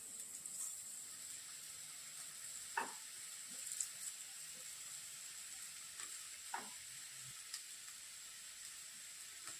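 Green peas sautéing in a pan for a matar kachori filling, giving a faint, steady sizzle with a few soft, scattered stirring taps.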